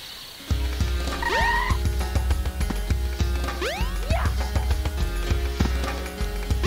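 Croaking frog calls from the Sonic Adventure DX video game, rising chirpy croaks repeated several times over busy game music and effects.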